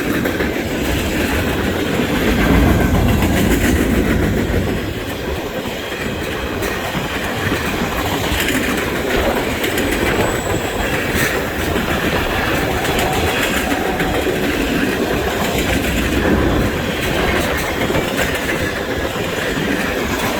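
CN freight train M347 'The Rattler', led by locomotive 3308, rolls steadily past on rails north of Conrath, a continuous loud rumble of railcars with clickety-clack wheel beats and occasional faint squeal, no voices.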